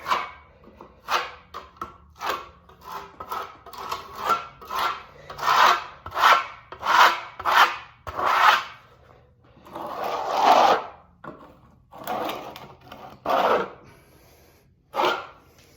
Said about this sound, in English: You can see the pattern that the trowel leaves with the glue.